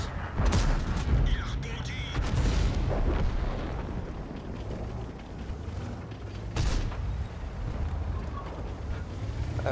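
Tank cannon shots and heavy explosions in the World of Tanks video game, AMX 13 90 or AMX 30, booming loud over a continuous rumbling battle din, with two sharp blasts standing out near the start and midway.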